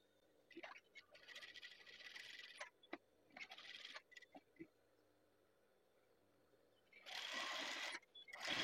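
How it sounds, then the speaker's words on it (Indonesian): A sewing machine stitches the side seams of a hand-drawn batik sleeve in several short bursts and one longer run near the end, with quiet pauses between them and faint handling noise. "Kita jahit bagian samping-sampingnya."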